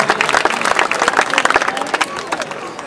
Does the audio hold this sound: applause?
yes